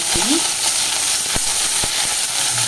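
Curry leaves hitting hot oil while tempering chinthakaya pachadi, a tamarind chutney: a loud, continuous sizzle and hiss, broken by a few sharp pops and crackles.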